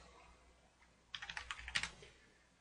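Stock symbols are typed on a computer keyboard in a quiet room, a quick burst of about ten close, crisp key clicks lasting under a second after a near-silent pause.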